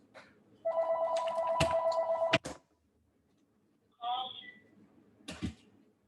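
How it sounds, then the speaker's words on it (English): A house phone rings with a sustained electronic trill, close and clear, cut off abruptly, followed by brief beeps as it is switched off. "let me turn my house phone off."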